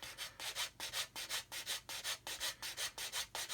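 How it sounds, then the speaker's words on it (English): Sandpaper rubbed back and forth over the grey plastic of an Airfix 1/72 Vulcan model kit, a close, steady rhythmic scratching of about three strokes per second, with no voices. "So I'm just going to keep sanding till we can see the grey plastic on both sides."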